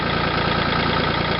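A Ford 3600 40 hp tractor engine runs at a steady idle, a close, even, low mechanical rumble with a regular chugging pulse and no voices.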